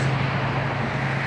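Steady, dense road traffic roar fills the air at a disc golf course in D. F. Buchmiller Park, a constant low rumble with a faint hum throughout and no distinct passing vehicles standing out.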